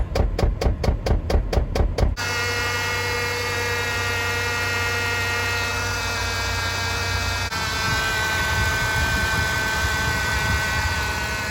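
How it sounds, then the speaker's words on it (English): A 2008 Chrysler Town & Country running with its hood open, a steady engine drone carrying a high alternator whine, preceded by about two seconds of rapid rhythmic pulsing, all close and with no talking. "there was an unusually loud whining noise coming from under the hood"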